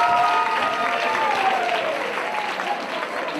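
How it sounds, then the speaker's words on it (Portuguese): A crowd at a church gathering in Pretoria, South Africa, breaks into sustained applause, dense overlapping clapping with a few raised voices and faint background music mixed in. "Batam palmas."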